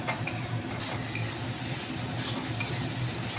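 Mushrooms stir-fried in a pan, a soft steady sizzle with rhythmic scraping and light clinks of a spoon against the pan, close but fairly quiet.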